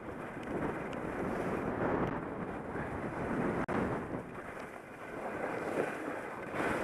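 Strong wind gusts buffet the microphone outdoors on a skiing run down a work road, a continuous loud rushing roar that swells and eases with one brief dropout, no voices.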